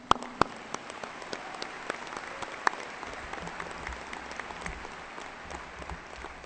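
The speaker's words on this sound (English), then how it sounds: "So a round of applause for Jessica, if you guys wouldn't mind." A graduation audience applauds in a large hall, a steady rain-like patter of many hands with a few sharper nearby claps standing out, sustained throughout.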